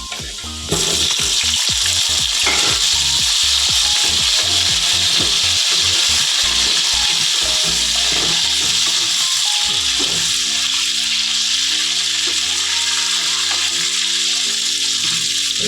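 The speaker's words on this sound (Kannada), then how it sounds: "ಚೆನ್ನಾಗಿ ಎಣ್ಣೆಯಲ್ಲಿ ಫ್ರೈ ಆಗಲಿ" Brinjal fries in oil with a loud, close, steady sizzle, joined by rhythmic scraping and stirring against the pan that grows more choppy and uneven in the second half.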